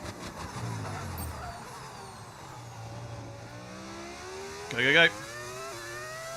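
Modded Formula 1 car engine in the F1 25 racing game, a steady revving tone shifting pitch under continuous talk, with a brief louder burst near the end.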